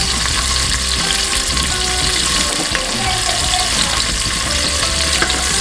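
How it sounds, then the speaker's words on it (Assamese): A medium onion fries in oil, a loud dense sizzle that holds steady throughout with faint stirring, close and without speech. "এতিয়া মই পিয়াজ ফ্ৰাই কৰি লম"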